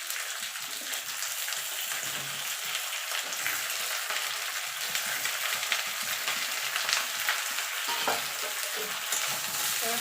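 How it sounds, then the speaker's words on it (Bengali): Eggplant and mixed vegetables fry with onions in a pan, a dense, continuous close sizzle with stirring scrapes and bubbling underneath, and no voices. "পেঁয়াজটা ভাজা ভাজা হয়ে গেছে এবার দিয়ে দেব সবজিগুলো সব একসঙ্গে দিয়ে দেব"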